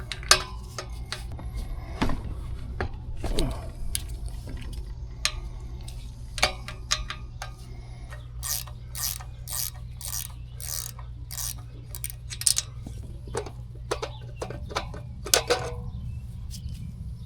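Metal tools clink, tick and ratchet while an RV EGR cooler valve is taken apart, scattered close taps and rapid clicking bursts over a low steady hum.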